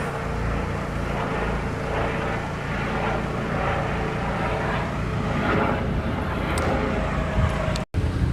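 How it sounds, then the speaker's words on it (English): A police helicopter flies overhead: a steady, loud engine drone with a broad rumbling roar that holds throughout, ending with a brief dropout. "Got a police helicopter just there, look."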